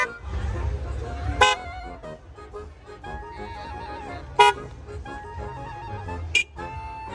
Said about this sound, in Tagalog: Pakalakas kasi ng busina na para bang nagmumura.